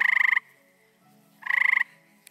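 An eastern gray tree frog gives two close, loud trilling calls, each a quick rapid pulse train lasting under half a second, separated by a pause.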